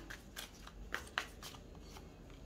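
Tarot cards shuffled and drawn, a quiet riffle with soft flicks and a couple of sharper snaps of cards, close and faint, with no speech.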